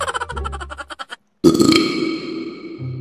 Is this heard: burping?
yes